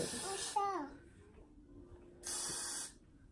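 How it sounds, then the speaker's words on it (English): Two short bursts of aerosol hair spray hiss, one at the start and another after a pause, with a voice speaking briefly between them. "I'm just gonna spray this hair to get it in the direction I want it to go."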